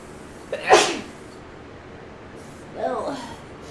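One sharp sneeze bursts out loud and close, and a second, softer sneeze or sniff follows a couple of seconds later against a quiet room.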